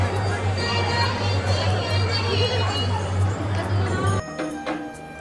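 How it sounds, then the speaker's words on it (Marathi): A packed crowd at the Mahalakshmi (Ambabai) temple gives a continuous babble of many voices, with clinks and a steady low hum, until the sound drops away sharply near the end. "बघू शकता किती गर्दी आहे,"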